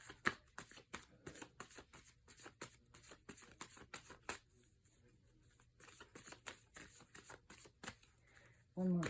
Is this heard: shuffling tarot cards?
yes